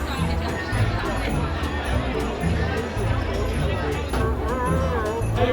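Large crowd of people dressed as Santa gathering for a charity walk through a town, a dense continuous babble of chatter and occasional shouts, steady and close, with no single voice standing out.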